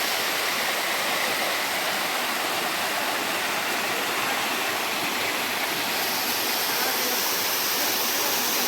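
A forest waterfall on Gandhamardan mountain pours in a steady, loud, unbroken rush of water that fills the whole stretch, with no voices over it.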